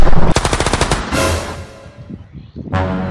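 A rapid burst of automatic gunfire rattles out, followed by a loud blast and echoing decay, then another sharp shot near the end; loud and close.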